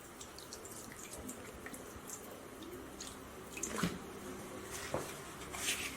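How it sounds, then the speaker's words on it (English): Water poured into a plate during a candle-and-glass-jar science demonstration, a soft, low trickle and splash in a quiet room with a few light clinks. "I am pouring some water into this plate."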